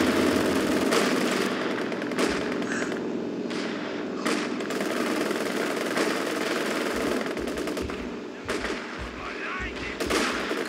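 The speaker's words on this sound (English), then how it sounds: "There's a lot of automatic fire coming at you" Sustained machine gun fire in the video game Company of Heroes 2 keeps up as dense, continuous automatic bursts and scattered booms, loud and steady throughout, with voices faintly underneath.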